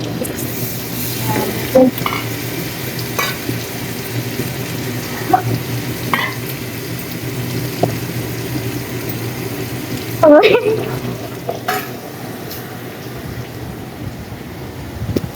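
Masala frying in a pan makes a steady loud sizzle, with occasional stirring scrapes and a sharper clatter near the end.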